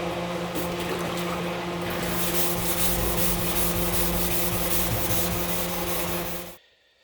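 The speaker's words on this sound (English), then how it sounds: "So I'm gonna get back sanding here now." Continuous hand sanding on a 1966 Ford Mustang body panel, a steady abrasive scrubbing with a low mechanical hum underneath, stopping abruptly at the end.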